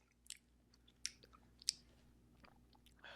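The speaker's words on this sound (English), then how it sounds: "I can't stop chewing." Someone chews a big bite of a hot-sauce wing close to the mic, with a few sharp wet crunches and smacks standing out against a quiet background.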